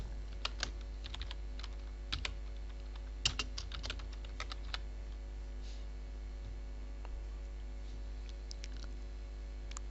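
Rapid keystrokes tapped out on a computer keyboard while entering text in Photoshop 7, steady and fairly close, with a constant low hum underneath and no voices.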